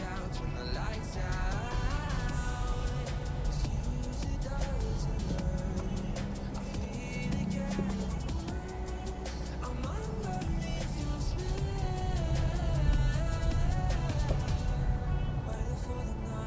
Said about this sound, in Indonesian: Yang paling berasa ya suara lantai dari ban ya. Suara road noise dari luar ini berasa banget masuk ke dalam.